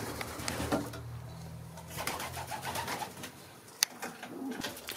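Pigeons coo in a breeding aviary of young 2021 birds, low soft calls repeating at close range with a sharp clatter near the end and no voices.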